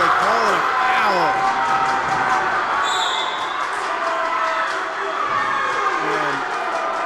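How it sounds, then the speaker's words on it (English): A high school basketball crowd reacts angrily to a foul call, shouting and jeering in a loud sustained roar, with sneaker squeaks and a whistle cutting through the noise. "This crowd absolutely livid."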